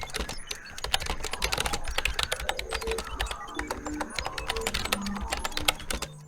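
Rapid, uneven keystrokes on a computer keyboard as card details are entered for an online tax payment, close and steady for several seconds with no talking.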